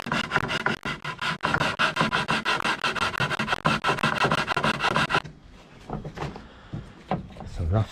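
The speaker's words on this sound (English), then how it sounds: "Some rough sandpaper." Rough sandpaper is worked briskly over a kayak paddle under repair, making fast rhythmic rasping strokes close up for about five seconds, then a few lighter scuffs and handling noises; a voice speaks over part of it.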